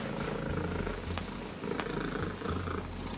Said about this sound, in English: It's purring.